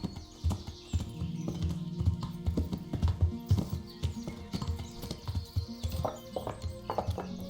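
Horse hooves clip-clop in a steady walking rhythm in the medieval video game Kingdom Come: Deliverance, close and clear, with faint background game ambience.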